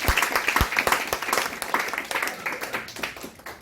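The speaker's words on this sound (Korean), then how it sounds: "우리 한 번 더 귀한 시간 내셔주신 교수님 그리고 같이 오신 사장님들 큰 박수 한 번만 더 부탁드리겠습니다." A seminar audience claps for a professor and visiting business owners, a looser round of individual claps with distinct sharp hits, moderately close and fading slightly toward the end.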